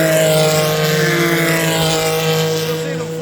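An open-top Porsche prototype race car drives up the hill at Road Atlanta during a historic racing event, its engine a loud, steady droning roar that holds for the whole moment and eases off only slightly toward the end.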